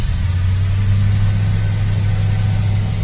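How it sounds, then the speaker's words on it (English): A 1972 Mercedes-Benz 280SEL 4.5 V8 idles with a steady, even low rumble, close and loud, holding an elevated idle with no talking. "Get the key, put it in the ignition, turn ignition on, and it should start right up."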